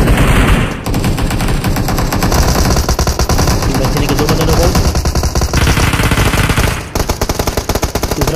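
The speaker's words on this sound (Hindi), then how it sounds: "एच एन ए के ऊपर गोलियाँ चल रही है" Rapid automatic gunfire from a battle royale video game, loud and continuous bursts of tightly spaced shots with brief pauses near one and seven seconds, no talking.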